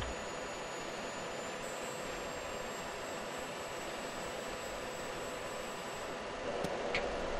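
Jet aircraft engines roaring steadily as they roll down the runway for takeoff in a flight sim game, a loud continuous broadband rumble with a high whine, swelling slightly near the end.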